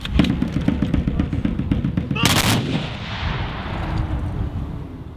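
A Civil War reenactment battalion fires a loud, ragged musket volley, sharp cracks trailing into a rolling crash and fading echo, with speech among the troops around it.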